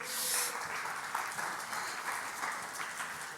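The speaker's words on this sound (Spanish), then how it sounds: "Dale un aplauso al Señor" Church congregation applauding the Lord during a Spanish-language sermon, steady dense clapping from a crowd, fairly faint and distant, sustained for a few seconds without talk.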